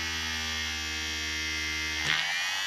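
Small electric motor from a disassembled vehicle speedometer whirring with a steady close hum, its pitch sagging as its magnets are drawn toward nearby metalwork, with a brief rattle near the end.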